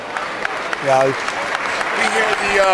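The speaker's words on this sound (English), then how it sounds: "We hear the fans behind us clapping" A crowd of fans claps in the background at a sports game while a voice briefly sounds in the foreground.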